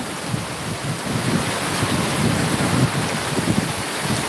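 Heavy rain pours steadily over a village while rising wind gusts through it, a dense, continuous roar with no voices.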